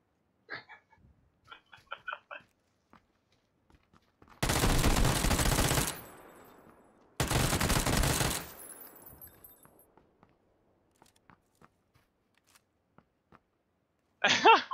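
Gunfire in PlayerUnknown's Battlegrounds comes as two loud sustained bursts of rapid automatic fire, each over a second long, with faint voices and quiet gaps around them and another burst starting at the end.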